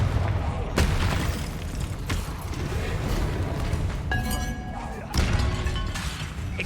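Confringo and Bombarda spell blasts in Hogwarts Legacy land as several sharp, crashing booms with shattering debris, spaced through the stretch amid ongoing combat noise, with a voice talking at times.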